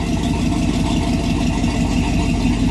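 A 1966 Chevy truck engine runs at a steady idle close by, a loud, even low rumble with a regular throbbing pulse and no voices over it.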